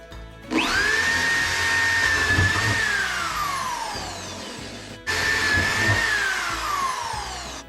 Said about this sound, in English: Got my drill all ready to go.